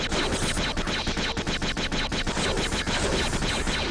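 Rapid gunfire from the Jedi Outcast video game, a dense, continuous stream of loud, closely spaced shots that keeps going without pause.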